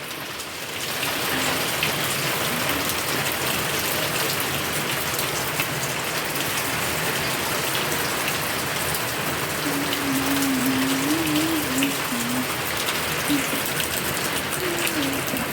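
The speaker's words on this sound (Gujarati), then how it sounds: "સારો એવો વરસાદ આવે છે પાણી જ જો" Heavy afternoon rain pours down steadily outside a Gujarati family home, a loud, constant hiss of drops hitting surfaces from start to end, with a faint voice briefly heard under it.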